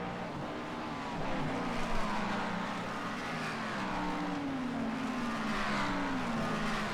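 A race car engine in an IMSA racing video game drones steadily, revving and shifting pitch as it chases a BMW, with faint tire noise and no talking.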